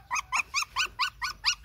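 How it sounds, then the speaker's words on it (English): Abandoned puppies in Roi Et, Thailand, yapping at feeding time: seven short, evenly spaced barks in a steady rhythm, close and fairly loud, with no talking. "So we came back down to feed the dogs."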